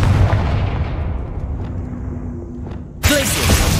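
A Confringo fire spell from Hogwarts Legacy goes off as a deep booming blast that fades into a long rumbling tail, followed by a sharp, bright burst near the end.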